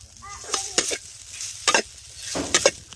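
A spoon stirs turmeric and coriander powder together in a hot pan, giving a few short scraping strokes over a faint sizzle.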